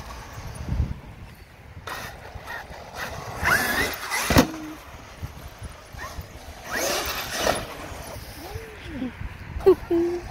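A Traxxas X-Maxx 8S RC car drives around a newly opened skatepark, whining in bursts and rattling over the surface at varying distance, with wind noise and voices in the background.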